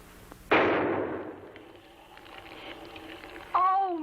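A single gunshot fired into a wall indoors rings out sharp and loud, then fades into a reverberant decaying tail, followed moments later by a brief voice.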